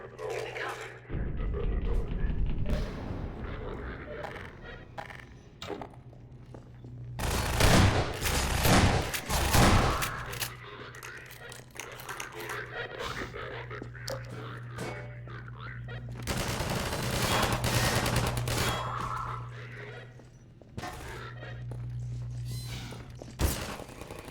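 Allied turrets in a Half-Life 2 firefight let loose rapid bursts of automatic gunfire in two main clusters, with scattered thuds and mechanical clanks between them and a voice talking over the action.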